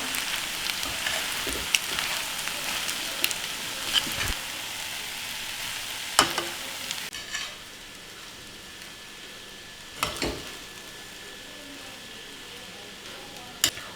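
Spinach rice gets stirred and mixed in a frying pan: a soft, steady sizzle runs throughout, punctuated by scattered clinks and scrapes of the spoon against the pan.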